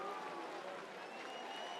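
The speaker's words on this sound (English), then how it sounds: "Crowds cheering." Crowd cheering and applauding at the finish of a track cycling points race, a steady dense wash of clapping and voices held at an even level throughout.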